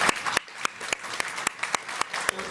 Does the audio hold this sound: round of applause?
yes